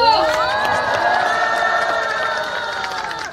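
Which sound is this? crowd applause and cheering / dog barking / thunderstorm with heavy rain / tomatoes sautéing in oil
crowd applause and cheering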